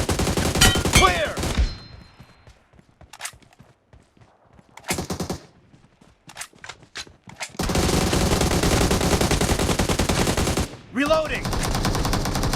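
Automatic rifle fire from AKM and Groza in the mobile game BGMI: a loud burst opens the scene, a few scattered shots follow, then a long, dense sustained volley and a final burst near the end.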